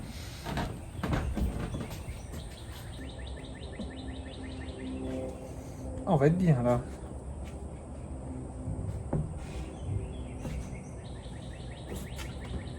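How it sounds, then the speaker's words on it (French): Small birds chirp and trill softly in the background outdoors at a Louisiana plantation in spring while a person speaks briefly, with a soft creak of a porch swing in the middle. "T'entends les petits oiseaux?"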